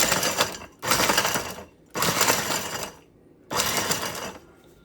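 Blender or food processor pulsing dried strawberries, three loud, gritty bursts of whirring blades about a second each, separated by short pauses, close up.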